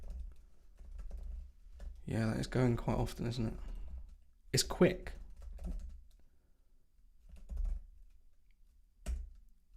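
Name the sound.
typing on a computer keyboard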